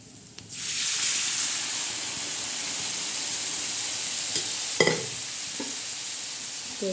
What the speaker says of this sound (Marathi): आता याच्यावर आपण ही वजडी लगेच टाकणार आहोत